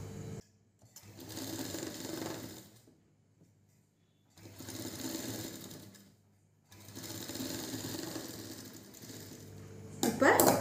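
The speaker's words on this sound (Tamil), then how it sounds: "இப்போ அமுக்கு தையல் போட போகிறோம்." A sewing machine stitching a blouse seam in three bursts of steady whirring, separated by brief pauses, close and fairly loud, ending with a sharp clatter.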